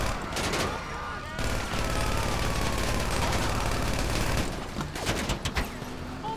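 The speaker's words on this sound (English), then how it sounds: "Somebody's shooting at me" GTA 5 Online gunfire rattles in sustained bursts, mid-distance and dense, with a player voice talking over parts of it and a few sharper shots near the end.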